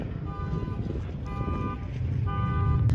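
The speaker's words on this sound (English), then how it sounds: "Great car alarm sound." Jeep car alarm sounding at an off-road event, with repeated pulsing tones in three bursts over engine rumble and general outdoor background noise.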